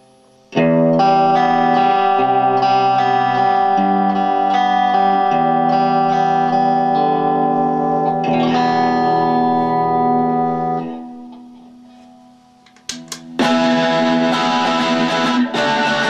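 Distorted electric guitar plays sustained chords and notes that fade out, followed by a fresh loud strummed chord near the end.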